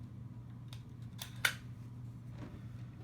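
An Adams Arms 14.5-inch mid-length UltraLite MOE rifle is being taken down. A few close, sharp mechanical clicks come over a faint steady hum, with the crispest click near the middle.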